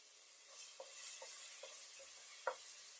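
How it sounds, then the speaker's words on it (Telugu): Ground mint paste sizzles in a pan while a spoon stirs it in regular scraping strokes, about six in a row, under a steady low frying hiss with no talk. "ఈ పుదీనా కూడా పచ్చి స్మెల్ పోయే వరకు బాగా ఫ్రై చేసుకోవాలి."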